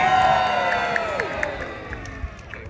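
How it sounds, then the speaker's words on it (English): A castle crowd at the Warwick Castle trebuchet show cheers and whoops, loud at first and then tapering off, with a few claps and children's shouts mixed in. "I expect to hear a big loud cheer when I say, welcome to the Trebuchet!"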